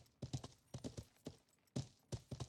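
Horse hooves clip-clop at a quick, steady gallop in the medieval video game Life is Feudal, with clear rhythmic clusters of close, fairly loud hoof strikes and no talking.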